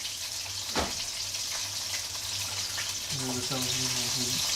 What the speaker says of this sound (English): It does kind of sound like a rainy day with water bubbling out of the hot oil.